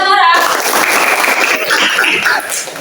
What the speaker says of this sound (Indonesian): Tepuk tangan buat Nora.